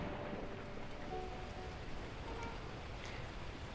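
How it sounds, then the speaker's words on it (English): Torrential rain pours down in the video game Beacon Pines, a steady, dense hiss of downpour that holds at an even level throughout, with no voices. "that moment, the heavens opened up, unleashing torrential rain."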